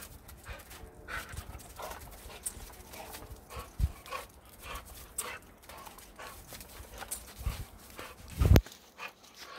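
A dog pants and shuffles around nearby, giving soft, irregular breathing and movement sounds with a sharper knock near the end.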